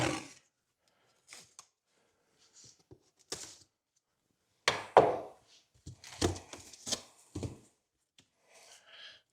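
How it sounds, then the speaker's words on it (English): A knife slicing open a cardboard box of new wheels and tires for a Jeep Gladiator, with scattered short cuts, thumps and a burst of tearing and rustling near the middle. "trusty knife, let's open this guy up, take a look at what we got"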